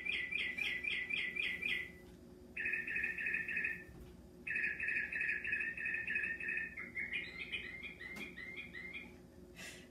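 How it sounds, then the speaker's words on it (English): A bird-song clock plays a sequence of repeated bright chirping bird calls indoors, in several phrases with short pauses between them, clear and fairly loud, over a faint steady background hum. "how many times have I done a video where the bird clock goes?"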